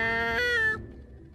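A single cat meows in the video game Stray, one clear, close, drawn-out tonal call that fades out after about a second.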